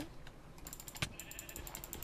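Faint Minecraft sheep bleats come through as quiet, wavering calls with soft keyboard clicks and clatter around them, all at low volume.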